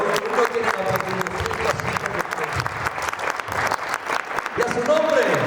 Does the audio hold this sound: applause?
yes